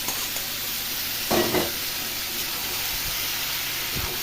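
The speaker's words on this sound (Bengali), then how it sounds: "এখানে এই সবজিগুলো ভেজে রেখেছিলাম চিংড়ি মাছের একসাথে আমি দিয়ে দেবো" Fried vegetables drop into a pan of prawns and sizzle steadily, with a brief louder burst of hissing and stirring as they land, then a constant frying hiss.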